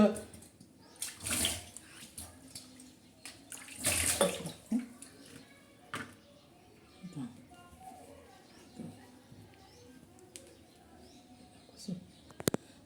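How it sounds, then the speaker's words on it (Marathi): Water splashes and sloshes as a stone grinding slab is rinsed, with scrubbing and pouring bursts up close and someone talking over the washing. "पाटा धुवून घेते कारण पाटा का धुवून घेतात"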